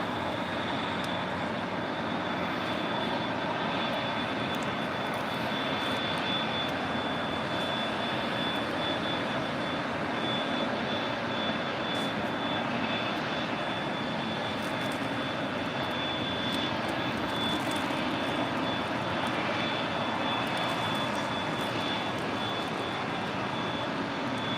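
A WestJet Boeing 737 arriving from Toronto touches down at LAX, its engines producing a steady, broad roar that holds evenly throughout with no talk.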